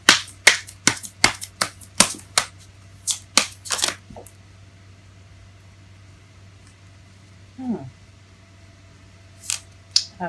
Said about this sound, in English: It fell face up as I was shuffling.